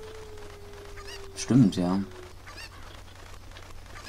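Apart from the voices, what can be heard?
chicken in video game Zelda: Ocarina of Time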